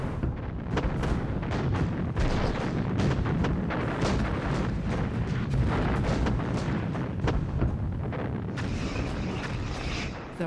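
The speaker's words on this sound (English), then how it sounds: "The Soviets begin the largest artillery assault ever seen." Massive Soviet artillery bombardment in wartime, a dense continuous rumble of booms and bursts rolling together at high level throughout, with no pauses and no voices.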